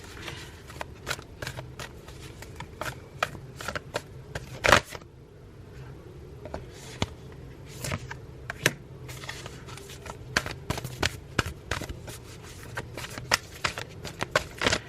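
A Moonology oracle card deck being shuffled by hand, giving a steady run of crisp riffling flicks and card slaps up close, with a brief quieter pause midway and no talking.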